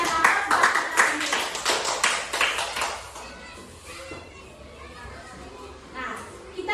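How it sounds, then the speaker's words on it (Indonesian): Classroom applause from a group of schoolchildren, a burst of dense clapping for the first few seconds that fades into children's chatter and voices. "Kita berikan aplaus buat kita ini."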